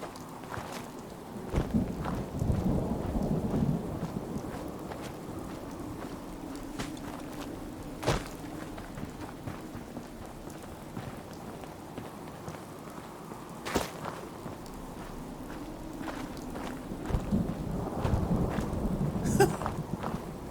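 Rain hisses steadily over the Fallout 4 wasteland during a thunderstorm, with a few rumbling swells and sharp cracks breaking through a moderate, continuous wash of sound, no voices present.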